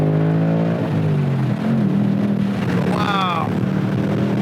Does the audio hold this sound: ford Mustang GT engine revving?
yes